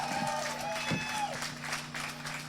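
An audience claps for a singing group at the Selma Jubilee, a round of applause that mixes with voices and fading tones left over from the music.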